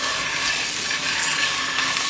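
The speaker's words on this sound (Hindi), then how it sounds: "मच्छी फ्राई करने के लिए इसको मैं ऑयल डाल लिया" Salmon fillet frying in a little oil in a pan gives a loud, steady hiss and sizzle, close up and continuous with no talking.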